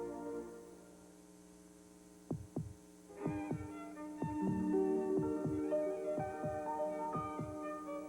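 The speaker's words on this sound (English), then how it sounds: "listen to your heartbeat" A heartbeat in a 1980s Chevrolet Nova TV commercial: deep, regular double thumps, steady and rhythmic, grow stronger over a low hum, beginning softly and then pulsing continuously.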